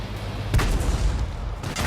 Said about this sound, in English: And he's firing high explosive